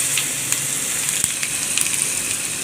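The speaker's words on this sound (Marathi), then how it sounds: "आपल्याला आता याच्यावर टाकायचं आहे गरम केलेलं तेल." Hot oil is poured over raw mango chutney in a home kitchen, setting off a steady, bright sizzle that crackles with small pops throughout, close and alone without any talk.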